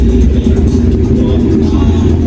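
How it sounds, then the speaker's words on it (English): A Porsche 964 rolls up to a cars and coffee gathering, its engine a loud, close, continuous low rumble with a rough pulsing texture. "Got a Porsche just turned up here."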